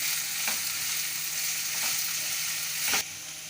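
Onions frying in a pan for capsicum rice give a constant, close hiss and sizzle, with a couple of soft stirring scrapes breaking in.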